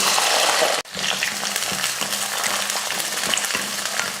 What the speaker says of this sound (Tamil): வெங்காயத்தை அந்த பச்சை மணம் இல்லாத அளவுக்கு நல்லா வதக்கிக்கணும்